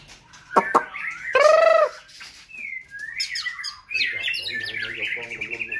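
White-rumped shama birds at a large breeding farm in Vietnam give loud harsh squawks followed by whistled chirps and warbling calls, close and continuous, with bird sounds filling the clip.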